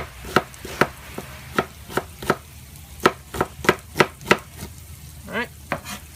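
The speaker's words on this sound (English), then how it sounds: "so I chop that up into nice little bits" A kitchen knife chops an onion into small bits on a board for cornbread stuffing, a steady run of about a dozen sharp, close taps, ending in a brief quicker cluster.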